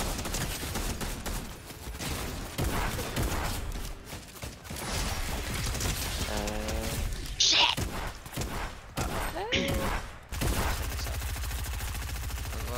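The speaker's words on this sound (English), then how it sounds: "I'm getting shot at from the left side" Rapid bursts of gunfire in the video game Fortnite during a squad match, dense and continuous with heavy thuds and crashes mixed in, voices talking over the action throughout.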